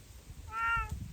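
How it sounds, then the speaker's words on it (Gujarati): A cat gives a single drawn-out meow in the middle, moderately faint over a low background rumble, with no talking. "મિયાઉ મિયાઉ મિયાઉ"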